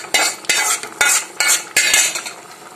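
Garlic tempering tipped into a boiling breadfruit curry, heard as a run of sharp ladle and pot knocks about every half second, each with a bright sizzling hiss, close and fairly loud with no voices.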